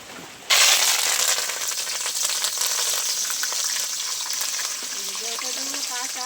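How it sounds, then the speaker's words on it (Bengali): Sudden loud sizzle as curry leaves hit hot oil, then a steady crackling fry with small pops and a faint voice near the end. "শেষে আমি কারি পাতাগুলো ভেজে নেব"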